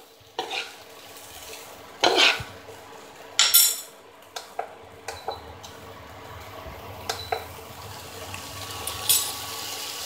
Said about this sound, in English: We have to mix this paste, keep stirring